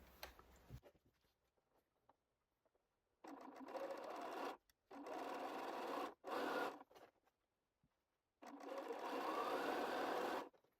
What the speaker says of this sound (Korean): 그렇게 사각형 옆에 후드 조각 두 개를 다 재봉을 하고요